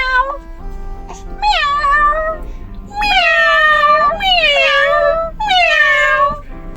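A person imitates a cat, giving a string of drawn-out, wavering meows: one short call, then four longer ones with brief pauses between, loud and close.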